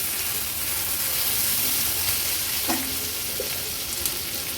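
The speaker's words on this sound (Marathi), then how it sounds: "आलं लसूण पेस्ट देखील कांद्यासोबतच छान आपल्याला परतून घ्यायची आहे" Ginger garlic paste sautéing with onions in oil for a restaurant-style veg biryani, a steady close sizzle and hiss with a few faint stirring clinks.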